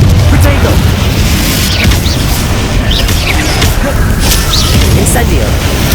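Confringo spell explosions in Hogwarts Legacy on Xbox Series S boom loudly and continuously, with fiery bursts piling over one another while a voice speaks over the blasts.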